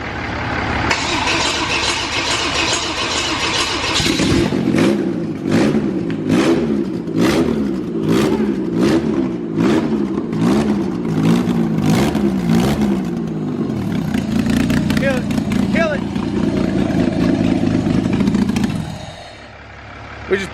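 A car engine rebuilt with new cylinder heads runs loud and close, cranking and catching before a long series of rhythmic revs that surge and drop, then settling into a steady high idle and cutting off, with voices talking nearby.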